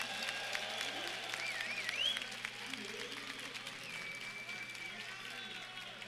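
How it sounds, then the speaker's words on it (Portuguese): Faint, distant audience clapping at a tech conference stage, a steady wash of claps under a hum with a few voices and squeaks over it. "Palmas para o Ian!"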